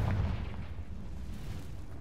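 A Confringo fire spell cast in Hogwarts Legacy, a deep, heavy booming blast that swells at the start and then rumbles on steadily, low and dense, with no talk over it.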